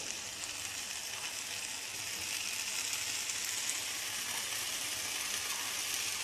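Sliced kikurage wood ear mushrooms sizzle in already hot oil in a pan, a steady close crackling hiss with fine bubbling that holds evenly throughout, no voices.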